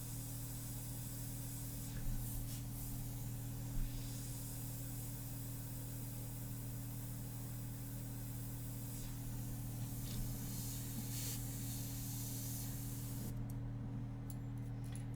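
An airbrush sprays ink onto a portrait, giving a soft continuous hiss over a steady low compressor drone, with a few brief bursts of stronger spray, close and unbroken for the whole stretch.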